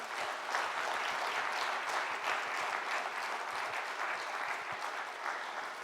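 A large church general assembly crowd of delegates applauds the vice moderators, a broad, sustained wash of clapping at steady volume from start to finish without speech.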